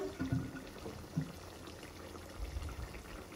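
Water poured into a cooking pot, a soft low splashing and trickle with a couple of brief surges, fairly faint and close, with no talking.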